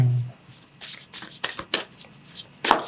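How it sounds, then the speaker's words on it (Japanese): Oracle cards being shuffled by hand, a quick run of soft papery riffles and rubs followed by a single card drawn, close and fairly loud with no talking. "最後にもう一枚オラクルカードを引いてみますね"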